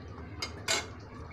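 Hilsa fish in mustard sauce frying in a pan, with a spatula scraping and clinking against the metal twice in quick succession over a soft, steady sizzle.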